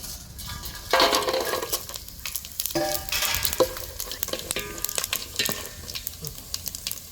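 Whole spices such as bay leaf, cinnamon, cashews, fennel and cumin roast in a pan, with soft sizzling broken by scraping stirs and small metallic clinks at close range.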